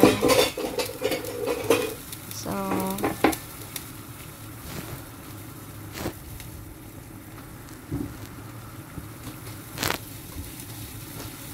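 Potato and eggplant being stirred in a sizzling pan, with utensil clatter and scraping against the pan over a steady fry, and a brief voiced sound partway through.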